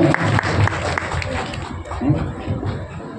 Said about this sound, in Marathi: जोरदार टाळ्या आवांसाठी. जोरदार टाळ्या पुन्हा एकदा मित्रांनो.